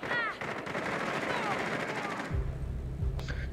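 Rapid automatic gunfire in the Rainbow Six Siege video game crackles in a dense stream of shots, then breaks off into lower thumping shots near the end, with a player talking faintly underneath.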